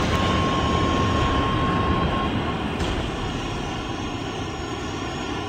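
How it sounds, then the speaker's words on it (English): A fighter jet engine in a battle royale video game roars as a loud, steady, continuous rush that holds for several seconds. "I blew up a multi-million-dollar jet."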